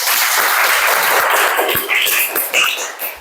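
Indoor audience applause fills the clip: dense, steady clapping from a group, close and loud, with a few individual claps standing out and a brief voice near the end.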